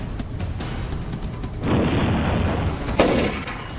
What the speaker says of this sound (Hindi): आतंकियों के खिलाफ हिंदुस्तान का तोप अटैक।